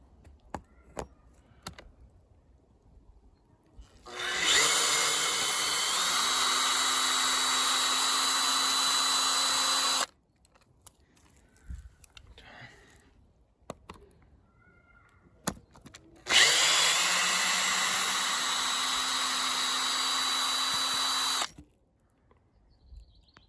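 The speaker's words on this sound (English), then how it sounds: "As soon as I start screwing out the old screws and removing plastic" A Makita power drill backs old screws out of a wind-damaged greenhouse frame in two sustained, loud whirring bursts of about six seconds each, separated by quiet handling noises.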